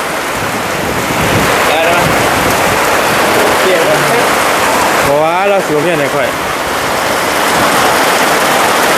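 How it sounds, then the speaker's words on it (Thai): Heavy storm rain pours steadily across the whole stretch at a loud, dense roar, with a voice speaking over it partway through. "พายุลงมาอีกแล้วพี่น้องเลยแห้งๆบาดเลยโอ้"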